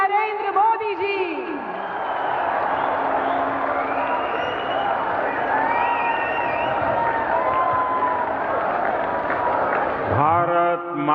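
Large audience applauding and cheering to welcome the Indian Prime Minister to the stage for a special address, a steady sustained roar of clapping and whoops throughout, with a voice coming in near the end.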